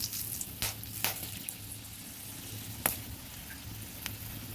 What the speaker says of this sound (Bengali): এগুলো একে একে সব ফোড়নে দিয়ে দিচ্ছি।